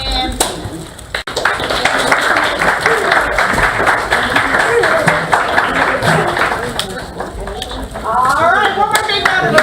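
Audience at a La Porte ISD school spelling bee giving a big round of applause, dense loud clapping from a crowd sustained throughout, with voices and cheers mixed in toward the end.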